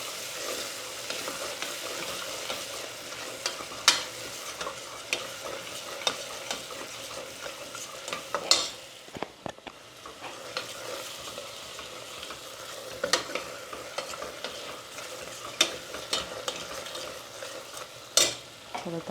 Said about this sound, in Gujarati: મેં અહીંયા થોડી બ્રાઉન સુગર નાખી છે. આ છે ગરમ મસાલો